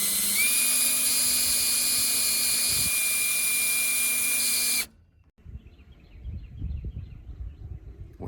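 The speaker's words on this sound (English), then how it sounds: "Start your drill on slow and then go for it." A drill bores through the diamond plate of an aluminum Jon Boat with a steady high-pitched whine for about five seconds, then stops abruptly, followed by quieter clunks and handling noise.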